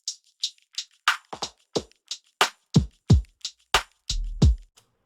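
Drum loop with a resonant filter sweep applied: a sparse sequence of sharp percussive hits with ringing, whistling peaks that shift as the filter moves, clean and close with no talking.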